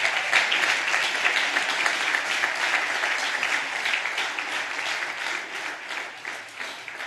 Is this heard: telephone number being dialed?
no